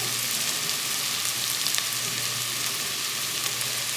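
Garlic sizzling steadily in a hot pan while sautéing for a creamy cauliflower soup, a continuous close frying hiss with no talk over it.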